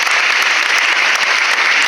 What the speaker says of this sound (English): Please encourage them with a round of applause.